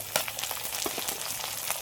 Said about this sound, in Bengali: পেঁয়াজ রসুনটা একটু হালকা নেড়ে চেড়ে এবার দিয়ে দেবো টমেটো কুচি।